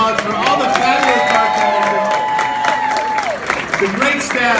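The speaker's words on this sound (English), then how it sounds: "So a big round of applause for all the fabulous" Audience applause and cheering for bartenders at a cocktail event, dense and steady throughout, with a prominent voice talking or whooping over the crowd noise.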